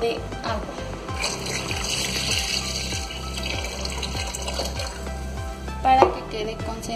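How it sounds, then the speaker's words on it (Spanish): A litre of water poured into a pot of shrimp broth with strained blended chile, a steady splashing pour that runs the length of the clip over a rhythmic backing beat. "Un litro de agua."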